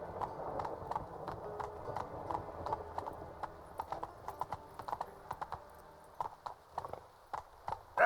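In The Witcher 3 video game, the horse Roach's hooves clip-clop in a quick, rhythmic run, fairly faint and steady, with the footfalls growing sparser toward the end.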